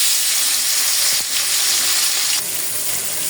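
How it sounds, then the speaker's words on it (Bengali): Fish frying in a hot pan sizzles loudly and steadily, a close, dense crackle of oil with a couple of brief surges partway through. "আমি এখন মাছটা একটু বেজে নিই"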